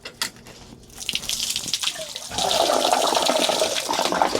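Water gushes from a valve on a crop duster's tank, starting as scattered splashes, then settling into a steady, loud rushing drain with no talking.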